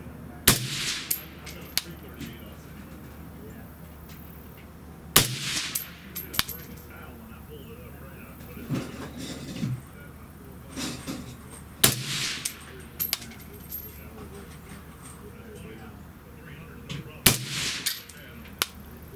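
A 6mm ARC rifle with an 18-inch PROOF Research stainless steel barrel fires at an outdoor shooting range: four sharp, loud shots several seconds apart, each with a short echo tail, plus a few fainter pops from nearby shooters.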